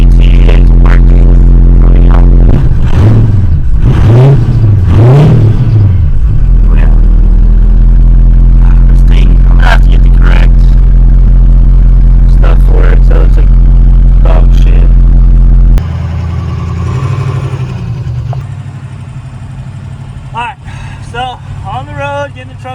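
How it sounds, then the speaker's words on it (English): A 6.0 diesel race truck engine warming up in Florida, a loud steady low idle with rhythmic pulsing and a few revs early on, then quieter and rougher after a cut, with people talking over it. "Getting the truck warmed up."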